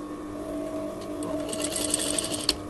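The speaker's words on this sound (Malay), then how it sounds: "So kita jahitlah." Domestic sewing machine stitching a concealed zip onto a finished garment, a steady close mechanical whir with light ticking and a small clack near the end, no talking.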